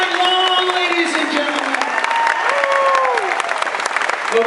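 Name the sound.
audience applause for a keyboard player at a concert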